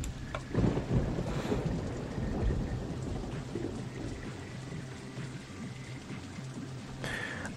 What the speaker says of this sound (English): we're going from thunder and light rain